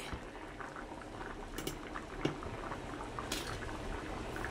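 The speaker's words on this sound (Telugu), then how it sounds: "ఇప్పుడు ఈ గ్రేవీ అయితే ఇలా మంచిగా ఉడుకుతుంది కదా" Potato and pea kurma gravy simmers in a pot, a soft continuous bubbling with small pops and a couple of brief clinks, faint and close with no talk.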